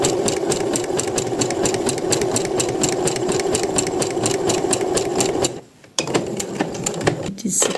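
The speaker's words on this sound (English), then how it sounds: "I'm also giving zigzag stitch so the fabric won't unfurl here" A sewing machine runs a zigzag stitch along blouse fabric, a steady loud mechanical whir with rapid regular needle ticks, pausing briefly near the end before resuming.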